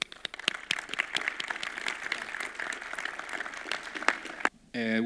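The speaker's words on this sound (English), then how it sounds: "So let's welcome him with a warm applause." A conference audience at a big data event gives a fairly quiet scattering of applause. Individual hand claps stand out within the patter, which ends abruptly as a voice begins to speak.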